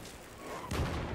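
A grenade goes off in an online multiplayer shooter match, a single muffled boom about two-thirds of the way through, rising over a steady bed of game noise and distant gunfire.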